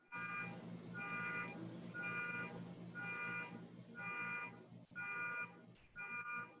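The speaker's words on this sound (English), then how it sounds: "Alarm, a car alarm." A car alarm cycles through its repeating electronic tone in bursts of roughly half a second, seven pulses with short gaps, heard from nearby against a constant background hum.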